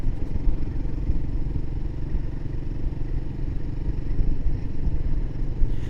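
A Royal Enfield Himalayan 450 single-cylinder engine thrums steadily while riding, a low, dense pulsing rumble with wind noise, close and continuous, with no voices.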